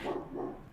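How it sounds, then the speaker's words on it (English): A dog barks in the background, two muffled, fairly distant woofs about a third of a second apart, heard alone without talk. "I apologize for the dog barking in the background."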